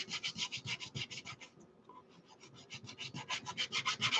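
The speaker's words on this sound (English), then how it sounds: "I'm sanding away" A wood panel is sanded by hand with sandpaper in quick, rhythmic back-and-forth strokes, close and scratchy, with a short pause midway before the steady rubbing resumes.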